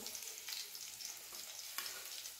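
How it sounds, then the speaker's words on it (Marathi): Green chilies frying in a pan for a crispy Maharashtrian kharda, a steady close sizzle with occasional stirring scrapes, no talking. "अशा पद्धतीने मिरच्या छान अशा भाजलेले मस्तच तळल्या गेलेले आहेत"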